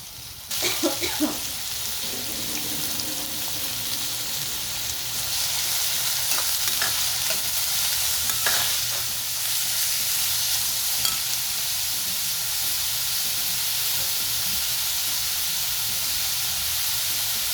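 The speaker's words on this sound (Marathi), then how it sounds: "मी इथे हे जे कांदे आहेत ते टाकणार आहे" Finely chopped onions hit hot oil in a pan with cinnamon and fry with a loud, continuous sizzle and hiss, with a few stirring clatters near the start.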